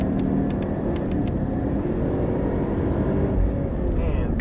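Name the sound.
car accelerating out of a corner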